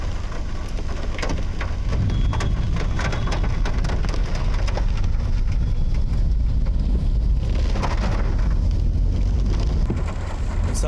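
Unseasonal rain falling across districts of Maharashtra amid hailstorm warnings, a steady dense hiss with low rumble and scattered drips throughout, continuous and fairly loud with no voices.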